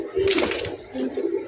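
A pair of high flyer pigeons coos close by in a few low, throaty bursts, one longer call followed by two shorter ones, with no talk over them.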